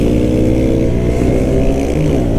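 A 2017 KTM Duke 125 with its stock exhaust being ridden, engine drone steady and loud throughout with dense low harmonics and wind noise, no talking.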